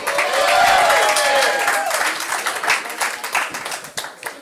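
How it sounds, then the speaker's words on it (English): A comedy club crowd in New York claps and cheers loudly, a dense burst of applause with a whistle early on that gradually thins out over a few seconds. "how about a round of applause for Jeannie?"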